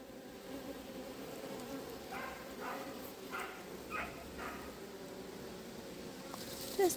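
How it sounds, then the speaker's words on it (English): Honey bees working at a homestead hive, a soft continuous buzzing drone with a few louder passes as single bees fly close, quiet and steady throughout. "Just the bees working."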